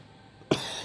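A man coughs once during a weightlifting workout, a single sharp, close cough breaking a quiet room tone.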